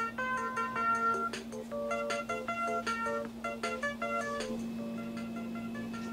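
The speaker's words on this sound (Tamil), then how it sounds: "அப்போ அவருக்கு வந்துட்டு ஒரு ஃபோன் வருது, ஸ்கேம் லைக்லி அப்படி சொல்லிட்டு ஃபோன் வருது" A phone rings with an incoming call in a short horror film, a repeating electronic melody of bright tones over a steady low hum, with no talk.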